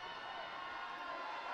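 Loud arena crowd at a Miami RedHawks vs. Northern Kentucky men's basketball game, visiting NKU fans cheering; a steady, dense roar of voices and shouts fills the whole stretch without letting up.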